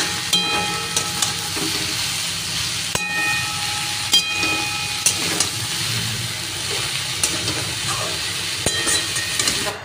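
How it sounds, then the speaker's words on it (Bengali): Food fries in a pan seasoned with salt and a little turmeric, a loud, continuous sizzle and hiss close by, broken by sharp clicks and scraping stirs at irregular moments. "এবার ভাজা ভাজা করতে হবে।"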